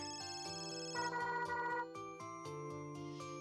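A phone rings in the Custom Robo video game, a synthetic electronic ringtone playing a steady repeating melodic pattern of bright tones, quiet and alone with no talking.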